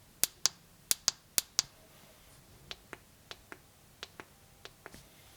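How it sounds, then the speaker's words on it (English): Samsung A15 phone side button pressed repeatedly, a series of sharp, fairly loud clicks close up, followed by a second run of softer, fainter clicks in quiet surroundings. "Another indicator is the button sound. The A15 is much louder"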